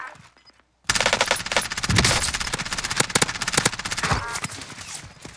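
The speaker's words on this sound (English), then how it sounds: "I'm getting shot" Automatic weapons fire erupts in Call of Duty Warzone after a brief quiet moment, then sustained loud rapid shots crackle on with small gaps between bursts.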